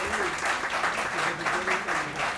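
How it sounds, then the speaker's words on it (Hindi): Audience applause at an occult awards ceremony: dense, steady clapping from a crowd that carries through the whole short stretch without a break. "आपका प्रोग्राम बहुत सफल है और उसके लिए एक बार तालियां जरूर आप बजा सकते हैं।"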